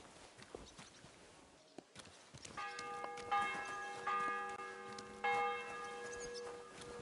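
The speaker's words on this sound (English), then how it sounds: "The bell's ringing" A church bell tolls repeatedly in a medieval village setting in the video game Kingdom Come Deliverance 2, its ringing strokes carrying at moderate loudness over footsteps and faint clip-clopping hooves.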